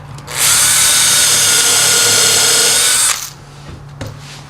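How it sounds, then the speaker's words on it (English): A power drill bores into a wooden joint with a loud, steady high-pitched whir lasting about three seconds, then spins down, followed by faint handling noise. "Take your drill on the mark."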